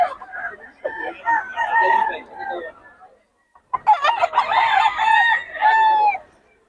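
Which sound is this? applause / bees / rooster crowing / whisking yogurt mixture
rooster crowing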